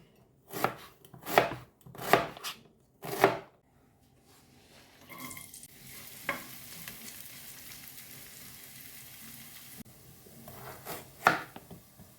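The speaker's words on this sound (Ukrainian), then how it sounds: "В першу чергу нарізаю цибулю так, четверть кільцями наріжу." A knife chops an onion on a board with a handful of sharp, rhythmic strikes, then a pan sizzles steadily before two more chops near the end.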